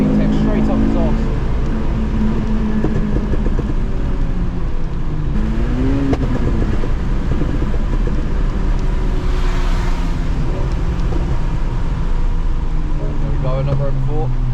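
A Honda Civic Type R FN2 on VTEC at Donington Park circuit, loud steady in-car engine drone with rising and falling revs through the gears, someone talking over it.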